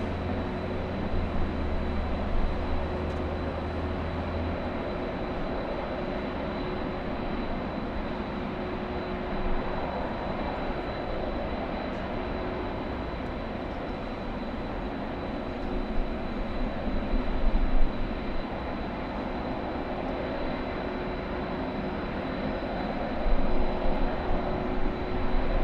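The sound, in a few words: airdrop plane sound effect that sounds like a train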